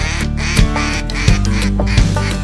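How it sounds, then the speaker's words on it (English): Ducks quack loudly and close during a goose hunt in Eastern Washington, a rapid series of raspy calls repeating in short bursts, with no talk over them. "Here come the ducks, hit the high baller."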